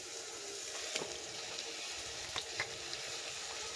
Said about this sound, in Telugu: ఇప్పుడు ఇందులో ముందుగా శుభ్రం చేసి పక్కన పెట్టుకున్న చేప ముక్కలను వేస్తున్నాను.